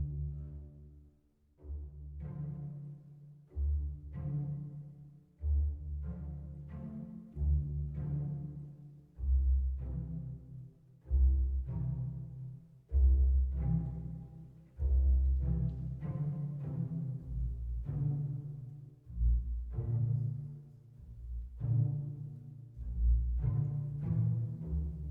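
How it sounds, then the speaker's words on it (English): Soft, low plucked string notes from a Spitfire Audio Albion V brush pizzicato patch play a gentle, unhurried melodic line. Each pluck has a quick attack and a short, rounded decay, and no voices are present. "We have the brush pizzicato"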